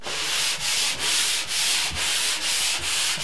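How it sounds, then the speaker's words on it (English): A sanding pole is pushed back and forth over a drywall seam during a stairwell storage renovation. About eight even, rhythmic abrasive strokes scrape close by, loud and dry, with no talking. "Take my sanding pole,"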